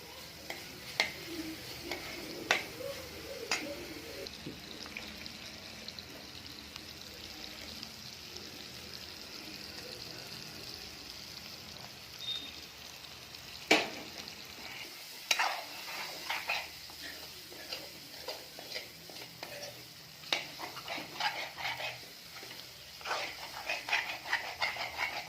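Goat liver being stirred and fried in a pan gives a soft, steady sizzle under repeated scraping and clinking of a spoon against metal, close and fairly quiet, with no talk.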